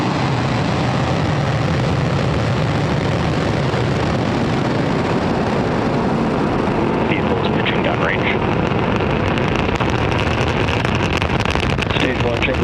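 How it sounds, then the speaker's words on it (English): Falcon 9 rocket lifting off with the GSAT-20 satellite, a loud, continuous broadband roar that stays steady and dense for the whole stretch, with wind-like rumble throughout. "Ignition. And liftoff."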